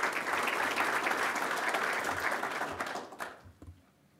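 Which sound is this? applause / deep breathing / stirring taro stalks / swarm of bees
applause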